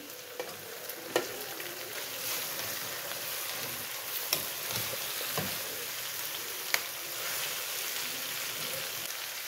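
Cauliflower frying in a pan for a spicy, tangy mixed-vegetable pickle gives a continuous soft sizzle with scattered crackles and a few sharp stirring clicks, and no one speaks.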